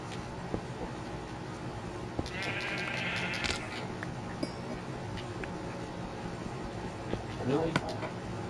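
A sheep bleats in Minecraft, a short wavering cry in the middle, with faint game clicks and a quiet hum of background noise around it.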